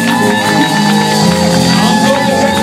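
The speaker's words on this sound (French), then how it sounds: "Encore des acclamations puisque c'est là." A church congregation at a jubilee service shouts and cheers in a loud, continuous mass of voices, with whoops and sustained cries layered over one another and no single speaker standing out.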